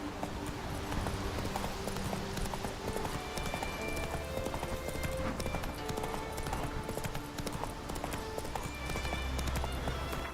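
Roach the horse in the video game The Witcher 3: Wild Hunt galloping with a fast, continuous drumming of hooves over steady game ambience, close and even in loudness.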